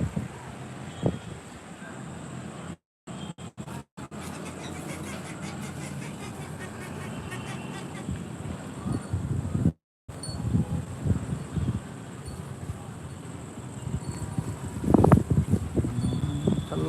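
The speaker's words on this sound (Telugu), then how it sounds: "చల్లటి గాలి వీస్తుంది వర్షం వర్షం గాలి" Cold wind gusting through a darkening city street in Guntur ahead of heavy rain, a steady broadband rush with louder swells and a few brief dropouts, mixed with faint distant traffic.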